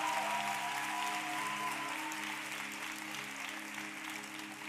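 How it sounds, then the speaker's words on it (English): A church congregation claps steadily in a continuous wash of applause, with a low sustained hum underneath, fading slightly toward the end. "Let's keep clapping."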